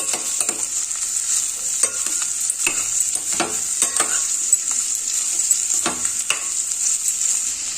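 Three onions frying in a pan for a hotel-style aloo puri curry, a steady bright sizzle with a spoon scraping and stirring at close range now and then, and no voices.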